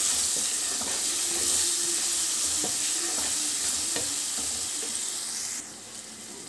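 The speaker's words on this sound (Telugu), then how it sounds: "స్టవ్ ఫ్లేమ్ని కొంచెం లో ఫ్లేమ్లో పెట్టుకొని చక్కగా ఈ మసాలాలను బాగా వేయించుకోవాలి" Masala of turmeric, salt and coriander powder frying in a pan over a low flame: a steady sizzle with repeated scraping stir strokes, and the sound changes and thins near the end.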